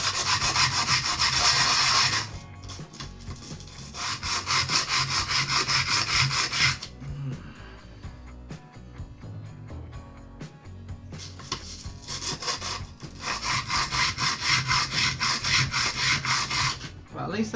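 Cow bone rubbed against coarse 40 grit sandpaper while shaping a bone needle, a loud rhythmic rasping in long bursts that pause briefly, then resume at a steady stroke.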